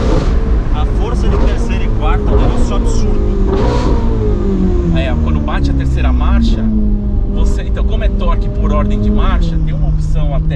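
Ferrari 488 Spider with a turbocharged engine accelerating hard through third and fourth gear, a loud continuous revving roar with falling and rising pitch at each shift, with someone talking over it throughout.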